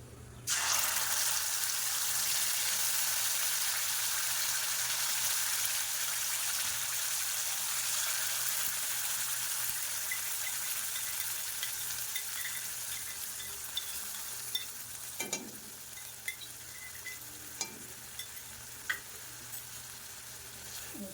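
Ground masala paste dropped into a hot pan for a drumstick curry, a loud, dense sizzle bursting in at once and staying steady, slowly easing, with a few faint stirring knocks toward the end and no talk.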